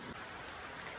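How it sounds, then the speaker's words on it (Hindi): Rain falls steadily in a dense, even hiss, faint and continuous with no speech over it. "तेजू में बहुत बारिश आ रहा है"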